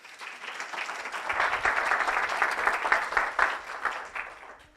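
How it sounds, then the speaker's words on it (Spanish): Applause from an audience at a neuroscience course session, swelling from quiet into a steady round of clapping, then tapering off near the end. "Un aplauso para ellos, por favor"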